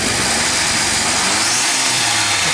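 A car engine revs hard while accelerating at a car meet, a loud, dense, roaring sound filling the whole clip without pause and with no talk.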